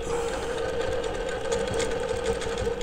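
A longarm quilting machine stitches a quilt with ruler work, a fast steady mechanical hum and rapid needle chatter running continuously at close range.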